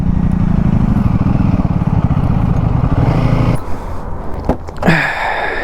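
A Royal Enfield Himalayan 450 motorcycle engine idles up close with a steady low throb, then cuts out partway through, leaving quieter outdoor background with a few brief clunks.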